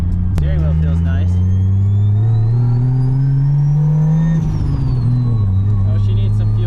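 A 1JZ-powered MK3 Supra with a new turbo drives, its engine droning loud and close as revs rise steadily then ease off, a turbo whine and whistle riding above, with occasional voices under the engine.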